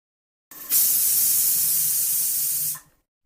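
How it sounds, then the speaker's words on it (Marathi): A pressure cooker vents a single sustained blast of steam, a loud, bright hiss lasting about two seconds that starts abruptly and cuts off sharply, with no talking. "कुकरच्या शिट्ट्या झाल्यात"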